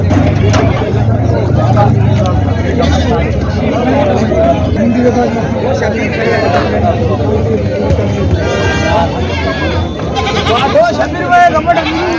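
Goats bleating at a crowded weekly goat market in Vasmat, with repeated bleats rising over a constant babble of people talking nearby.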